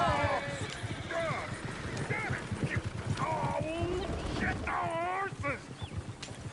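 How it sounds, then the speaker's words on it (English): Horses in the Red Dead Redemption 2 video game, with steady clip-clop hoofbeats and whinnies over a busy outdoor background while voices talk throughout. "Damn horses!"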